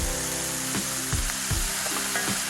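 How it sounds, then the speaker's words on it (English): Hamburger meat fries in a pan at a campground, a steady loud sizzle with regular scraping stirs of the spatula roughly every three-quarters of a second. "I'm getting my hamburger all fried up"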